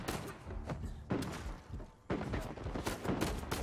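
Gunfire in the video game Uncharted 4: bursts of sharp shots and impacts come in rapid clusters with short lulls between them, loud and close, with no talk over them.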